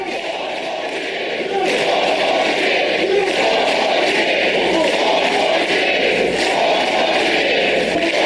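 A political rally crowd chants while protesters shout back, a dense roar of many voices that swells after the first second and holds loud and continuous.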